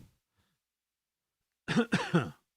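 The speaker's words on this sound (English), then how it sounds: "yeah, coughing." A short burst of two or three harsh coughs, close and fairly loud, after a long stretch of near silence.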